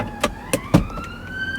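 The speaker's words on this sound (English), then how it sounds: "Ambulance." An ambulance siren sounds from outside a parked BMW 5 Series GT, heard as a faint rising tone running throughout, alongside a few sharp nearby clicks.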